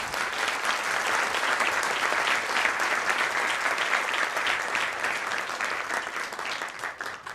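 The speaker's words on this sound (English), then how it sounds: "I think we must give another huge round of applause to Professor Yadav for coming all the way to" A hall audience at a talk in Pune breaks into a sustained round of applause, dense clapping holding steady and then starting to thin out near the end.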